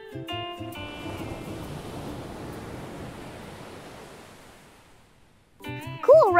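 Soft, steady rushing hiss imitating the ocean as heard inside a seashell held to the ear, fading out gradually before cheerful musical tones return at the end.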